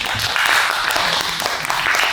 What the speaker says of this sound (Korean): 저희 어머니 아버님께 박수 한번 주세요.